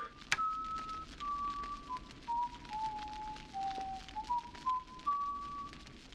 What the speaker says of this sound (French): Le mec qui siffle, c'est génial.